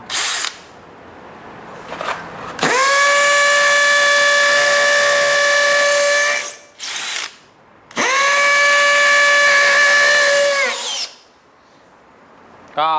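A DeWalt DCD805 cordless hammer drill in hammer mode, second gear, bores into concrete in two long, loud, close bursts of several seconds each, its high motor whine steady through each run, with short pauses and small starts between.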